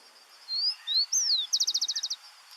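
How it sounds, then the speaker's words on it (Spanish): A rufous-collared sparrow in Buenos Aires sings alone and clear: three slurred whistled notes rising and falling, followed by a rapid, even trill of about ten short chips, moderately near against quiet background. "El chingolo, es un pájaro pequeño y elegante de canto inconfundible, que llama inmediatamente la atención."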